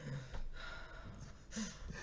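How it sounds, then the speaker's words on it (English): Heavy breathing close into a microphone, a few loud gasping breaths and snorts over about two seconds. "I can hear myself breathing"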